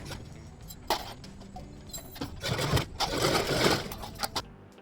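Sewing machine stitching a baby frock's lining to the yoke runs in close, loud bursts of rapid mechanical chatter, starting and stopping a few times with fabric handling in between.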